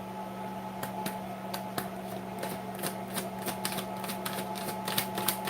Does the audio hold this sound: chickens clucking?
no